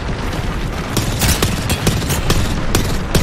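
Gunfire in the video game Apex Legends, with rapid bursts of sharp, loud shots and booms cracking in an uneven rhythm over a busy background of game noise.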